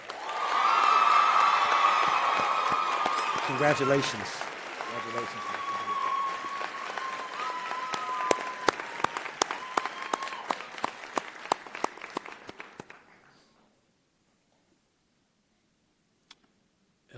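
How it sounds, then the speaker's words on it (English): A crowd at a doctoral hooding in a convocation hall bursts into loud cheering and sustained applause that thins into scattered claps and stops abruptly. A voice offers brief congratulations during it. "Round of applause for Dr. Crumley."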